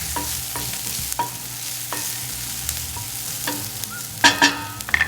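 Onions and garlic frying in a pan while being stirred, a continuous close sizzle broken by regular scraping strokes every half second or so, with a couple of louder clatters near the end.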